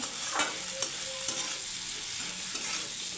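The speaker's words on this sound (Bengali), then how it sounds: "নুন দিয়ে একটু নাড়াচাড়া করে নেব" Onion and potato pieces frying in a pan with salt, stirred with a utensil: a steady close sizzle runs throughout while scraping strokes and soft clinks come and go, with no voices.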